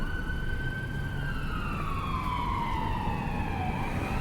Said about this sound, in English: Ambulance. Sounded like two at least, but no, there's all one.